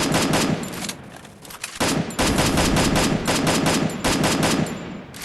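Rapid gunfire from Free Fire, the mobile battle royale game, crackles in dense automatic bursts with brief gaps, loud and close throughout without any talking.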